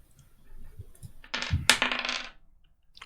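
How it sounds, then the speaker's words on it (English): Kraken dice tumble and clatter onto a hard surface for a tabletop roleplaying intimidation check, a bright rattling burst of about a second, close and alone after a few soft taps. "I told you guys you'd hear dice rolling."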